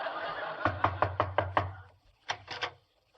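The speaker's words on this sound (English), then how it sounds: "I'll knock." Knocking on a door: a quick run of six sharp raps, a pause, then three more, crisp and close in a quiet room.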